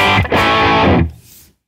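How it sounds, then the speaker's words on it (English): Electric guitar through the built-in spring reverb of a Tone King Imperial MKII amp, a loud strummed chord held for about a second, then a reverb tail that drops away and fades to silence. "spring reverb built into it"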